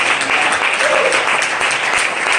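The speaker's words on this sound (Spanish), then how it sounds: "Denle un aplauso al Señor, hermano." Applause from a church congregation during a Spanish-language sermon, a dense, steady wash of many hands clapping close and loud, with a faint murmur of voices mixed in.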